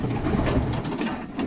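Racing pigeons coo continuously inside a loft at a breeding farm in Silesia, their soft throaty calls close and layered over a dense, rustling background.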